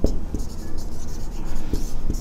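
A pen writes out a math solution on paper, giving a close, continuous scratchy sound broken by a few light taps as strokes begin, with no one speaking.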